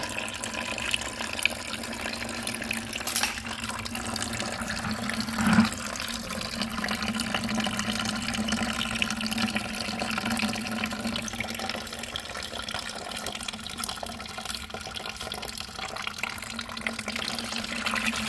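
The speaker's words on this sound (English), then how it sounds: "Ooh, the oil filter's full of water too." Water trickles steadily out of the oil filter on an abandoned Chevy 350 engine, a faint continuous running-liquid hiss with one small splash in the middle.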